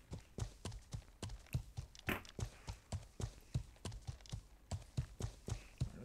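Horse hooves clip-clop in a steady, brisk rhythm in the medieval game Life is Feudal, close and even, with one brief bright jingle partway through and no talk.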